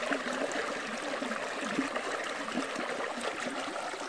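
A river flows quietly with a soft, continuous trickle and gurgle of water, fairly faint and close, with no voices.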